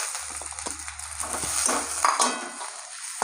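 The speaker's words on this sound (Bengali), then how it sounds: "টমেটোটা একটু ভেজে নেবো হালকা করে।" Chopped tomatoes added to onion and garlic frying in a pan, giving a soft sizzle with stirring scrapes and a few light utensil clinks, close and steady without talk.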